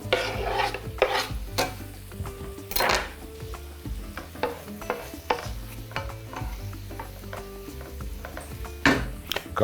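Sliced onion and chili pepper rings sizzle in a frying pan for a cabbage dish, with a steady soft crackle broken by sharp scraping stirs and occasional clinks of a utensil against the pan.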